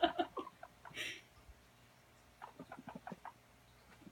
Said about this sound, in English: She doesn't squeak, she clucks.